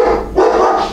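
A dog barks once, loud and close, a short harmonic bark with a brief rise in the middle.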